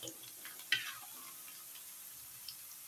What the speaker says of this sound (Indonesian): saya akan menggoreng ikan terinya pemirsa seperti ini